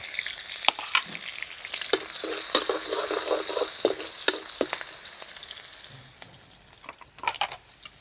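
Garlic, cumin, green chilli and small pieces of ginger hit hot oil with a bright crackling sizzle, punctuated by repeated spoon taps and stirring clatter, then settling into a softer spatter.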